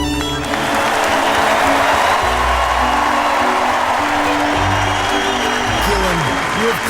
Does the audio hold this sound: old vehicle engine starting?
no